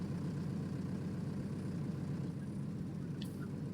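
Tractor engine in a farming video game on the Erlengrat map, a low, steady rumbling drone running continuously with no talk.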